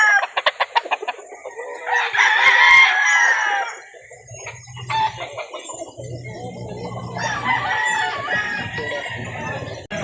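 Chickens and roosters at a poultry market in Calauan, Laguna, with a rooster crowing loudly up close, hens clucking, and a busy, noisy background of other birds and people talking.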